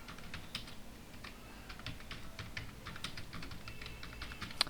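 Quick keystrokes tapping on a computer keyboard while entering heading text for a web page, steady irregular clicks at close range with no talking.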